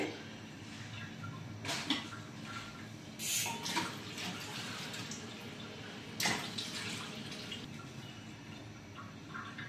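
A cup of water is poured into a pan holding two cups of sugar, being readied as Pongal sweet syrup; fairly faint splashing and trickling comes in a few short bursts over a low, steady background.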